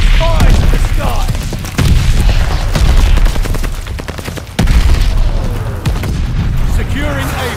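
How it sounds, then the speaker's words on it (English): Heavy bombing-run explosions in the multiplayer shooter Call of Duty: Vanguard on the Shipment map, a dense barrage of deep booms and gunfire rolling continuously, with two sharp nearby blasts standing out and a voice talking over the battle. "Teammate called a bombing run."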